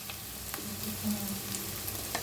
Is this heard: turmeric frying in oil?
yes